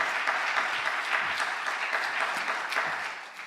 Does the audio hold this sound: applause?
yes